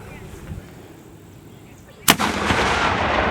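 A single cannon fires at a Revolutionary War reenactment in Charlotte, a sudden loud boom followed by a rolling roar that fades slowly, after a quiet stretch with faint outdoor noise and distant voices.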